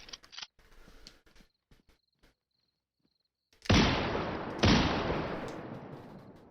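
Two heavy Dragunov sniper rifle shots ring out about a second apart in the PSVR2 zombie survival game SURV1V3, each with a long, reverberant decay. Faint, sparse clicks and game noises come before them.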